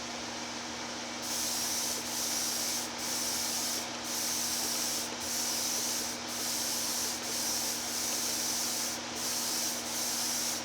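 A Black Widow airbrush sprays acrylic lacquer in a warm, humid room, giving a constant hiss over a low hum, broken by about ten short bursts of sharper, brighter spray at roughly one-second intervals.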